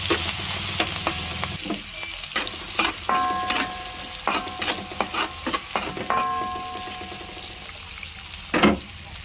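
Hotdog frying in a pan for fried rice, a constant close sizzle overlaid with repeated scraping stirs and clinks of a utensil against the pan, with no talking.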